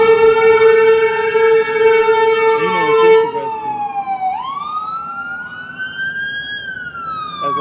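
A loud ambulance siren wails in sweeping rising and falling tones as it passes close by; someone speaks briefly partway through.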